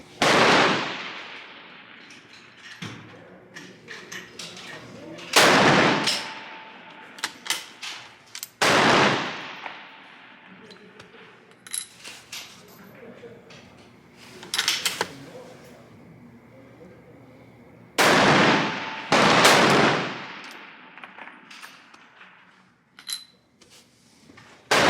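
Rifle shots at a weekly 600-yard winter league shooting match, several loud sharp reports spaced seconds apart, some in quick pairs, with quieter range noise and faint clinks between them.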